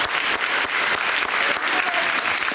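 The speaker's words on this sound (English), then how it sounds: "give them a big round of applause" Sustained applause from an audience at a school board meeting, honoring students for reading and math growth; dense, steady clapping throughout with faint voices underneath.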